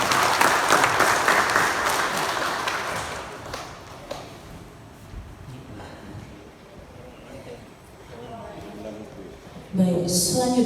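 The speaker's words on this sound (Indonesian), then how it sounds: "Bapak Ibu kita berikan aplaus sekali lagi" An audience at an Indonesian village data-update event claps in a burst of applause that fades out over several seconds, with an announcer speaking over and after it.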